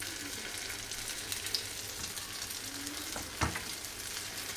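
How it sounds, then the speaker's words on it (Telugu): A tomato egg omelette with onions fries gently in a pan on a low flame, giving a soft, steady sizzle with a faint scrape or clink partway through. "ఈ ఆమ్లెట్ని కొద్దిగా బాగా సిమ్లో పెట్టండి, హై ఫ్లేమ్లో వద్దు"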